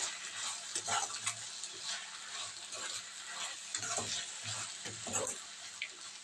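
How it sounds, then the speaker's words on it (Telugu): Chopped onions sauté in a pan, a soft continuous sizzle broken by repeated scraping stirs of a spoon against the metal, close and moderately quiet with no talking. "ఉల్లిపాయ ముక్కలు అయితే చక్కగా మగ్గుతాయని చూసారండి"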